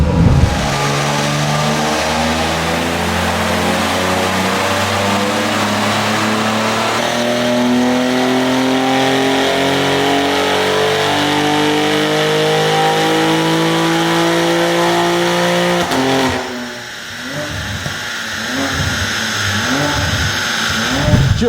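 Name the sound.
tuned BMW G80 M3 engine revving on a dyno run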